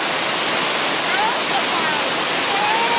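A 1000-foot waterfall roars with a loud, unbroken hiss of rushing water, close and steady throughout.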